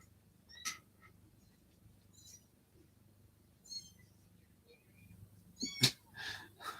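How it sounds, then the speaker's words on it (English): Several cats let out short, high meows and chirps at irregular intervals, faint and close in a quiet indoor room, with a louder cluster near the end. "Meow, meow. Little singers, aren't they?"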